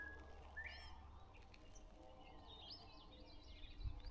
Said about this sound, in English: let's just sit here and listen to the birds for a minute